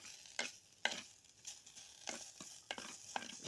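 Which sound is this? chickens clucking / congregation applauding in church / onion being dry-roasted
onion being dry-roasted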